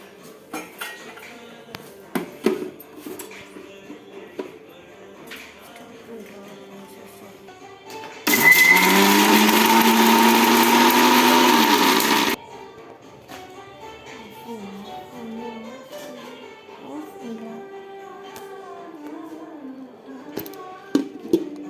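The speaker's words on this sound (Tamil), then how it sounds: "இப்போ நம்ம அரைக்கலாம். Mixie jar மூடிக்கோங்க." A mixer grinder grinds spices for rasam, whirring loudly and steadily for about four seconds, starting and stopping abruptly amid clinking of kitchen utensils.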